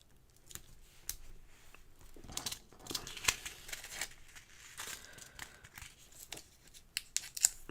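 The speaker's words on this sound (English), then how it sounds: "And one nice long piece of tape halfway." Long strip of tape pulled off and torn at a craft table, giving a run of crinkly, papery rips and sharp snaps of varying loudness, close up with no talking.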